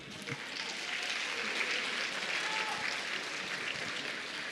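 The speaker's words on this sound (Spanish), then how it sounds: "Entonces, un fuerte aplauso más." Steady, fairly faint applause from a church congregation at a Christmas service for the group Canto de Esperanza, sustained clapping throughout with no voices over it.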